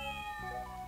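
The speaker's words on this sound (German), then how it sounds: "Kätzchen! Kätzchen! Kätzchen!" A single short cat meow rings out in the video game Tales of Phantasia, a clear synthesized tone sitting over steady background game music.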